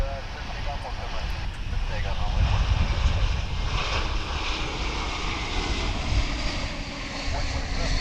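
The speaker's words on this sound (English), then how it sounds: "Another 777. That one's going on the right." Boeing 777 airliner moving on the ground at DFW International Airport, its steady engine roar sitting broad and fairly loud at a distance. The noise holds even across the whole stretch, with a voice speaking over it.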